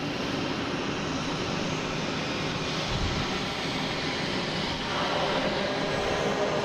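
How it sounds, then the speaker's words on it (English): A JetBlue Airbus A321neo jet airliner landing at Boston Logan after arriving from Santo Domingo gives a steady, loud engine roar that fills the whole stretch with no talk. "JetBlue coming in from Santo Domingo. An A321neo."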